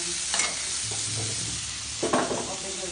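Prawns fry in a pan with chili paste, onion and garlic pastes, turmeric and salt for a prawn and taro curry, giving a close, steady sizzle broken by two louder bursts of spoon-stirring scrapes.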